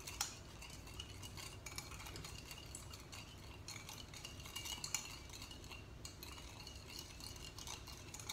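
Sweet and sour sauce with vinegar and lemon being stirred in a bowl or pan, a steady close scraping and swishing with light clinks of a utensil against the vessel, continuing without pause and without talk.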